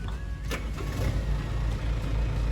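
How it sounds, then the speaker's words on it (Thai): Kubota M7040 tractor engine, a used 54-year model in good condition, starting up and settling into a steady, loud low rumble that fills the whole clip with no talk. "เดี๋ยวลองติดเครื่องดูครับ"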